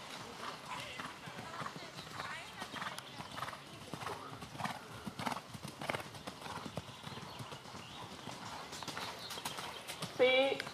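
Several horses gallop around an indoor riding arena, their rhythmic hoofbeats clip-clopping steadily throughout at moderate distance, with occasional snorts and a brief whinny-like sound near the end, while an instructor's voice calls out commands.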